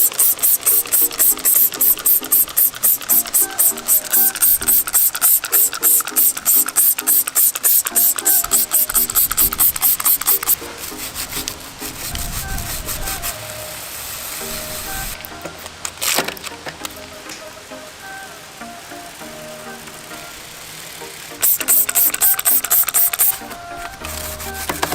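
A stiff brush scrubs a degreased bicycle cassette and chain, giving a fast, loud, rhythmic rasping that runs steadily, then turns quieter and looser in the middle before the brisk strokes return near the end.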